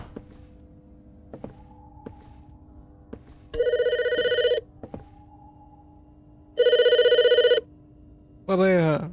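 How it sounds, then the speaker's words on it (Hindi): In a haunted station video game, a telephone rings in two loud, bright bursts amid quiet taps and thuds of movement, then a short warbling electronic tone follows, while someone talks quietly in between. "अब फोन आएगा देखना."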